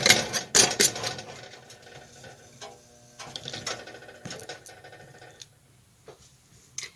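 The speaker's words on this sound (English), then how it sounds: "Place your lid on and screw it down." A metal lid screwed down onto a glass canning jar of home-canned sausage or pickled eggs, heard as close ratcheting scrapes and clinks in a few quick bursts, then quieter intermittent twists.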